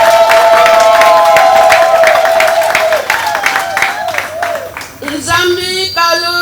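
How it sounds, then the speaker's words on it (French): Church congregation applauding and cheering loudly, with sustained voices and whoops over dense clapping that dips briefly before rising again, close and full. "Applaudissons à nous tous."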